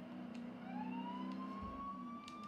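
A long, rising tonal horn blares from a tractor-like vehicle in a Top Gear driving video game, sustained and fairly loud over a low engine hum.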